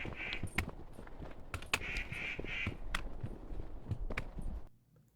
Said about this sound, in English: I started to hear a lot of birds.